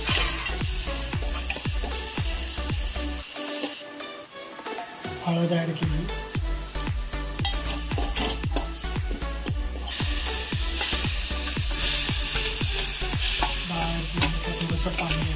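Dal tadka sizzles steadily in hot oil with mustard seeds, garlic paste, curry leaves, chilli, onion and turmeric, stirred in a home kitchen with a rhythm of repeated spoon scrapes. A brief quieter gap comes early on, and a voice speaks over it.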